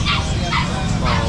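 A puppy gives several quick, high yips close by, loud and crowded together, with a person talking in the background.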